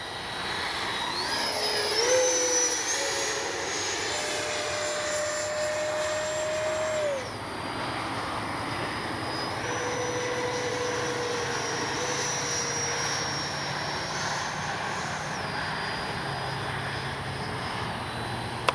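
FMS Rafale 80mm RC model jet flying overhead, its ducted-fan engine giving off a steady, loud, high whine that shifts in pitch as it passes, with no other sounds over it.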